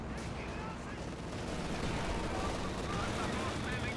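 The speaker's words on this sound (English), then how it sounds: "Panzer IV opening fire." Panzer IV tank cannon fire in a Company of Heroes 2 battle, dense continuous battlefield gunfire and explosions throughout, with a commentator's voice running over the din.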